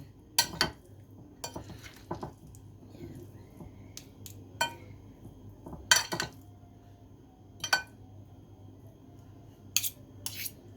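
Metal utensil knocks and scrapes against a pot while potatoes are stirred, about eight sharp, clinking strikes spaced irregularly over a quiet kitchen background with no talking.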